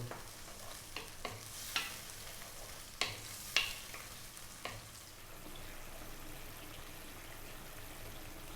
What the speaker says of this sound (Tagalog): mag-i-start na po tayo magprito